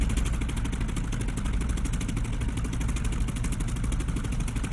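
A Polikarpov I-16's warmed-up engine runs in the DCS flight sim, a steady, loud, droning rumble with an even throbbing pulse and no break or voices.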